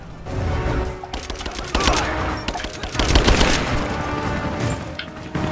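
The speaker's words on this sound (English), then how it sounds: "Give me covering fire!" Gunfire from the video game Rise of the Tomb Raider, a dense, loud run of rapid automatic bursts and fusillades with booming impacts, sustained through the whole stretch with no pause.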